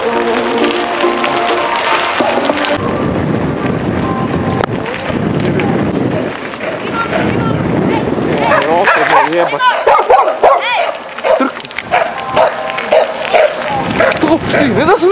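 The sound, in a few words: dogs barking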